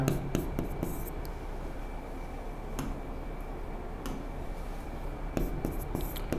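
Pen or chalk scratching out an equation by hand during a physics lesson, quiet short strokes and taps in irregular bursts over a soft steady room hum, with no voice.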